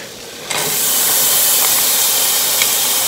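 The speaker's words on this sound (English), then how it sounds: "Just want to saute them." Onions sautéing in a pan on a home stove turned down to medium, a loud steady sizzle and hiss that swells in abruptly after a brief quieter start and holds evenly.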